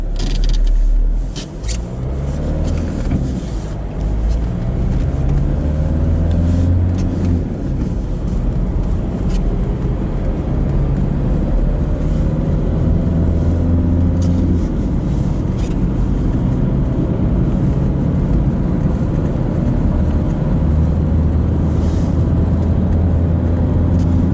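Steady vehicle engine noise near a road junction in the French countryside around Azay-le-Ferron, a continuous low rumble with no clear pass-by peaks and no talking.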